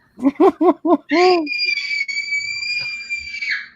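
A pet lets out a long, loud shriek like a howl of rage, starting with a few short rising yelps and then holding one piercing, drawn-out scream, close and alone.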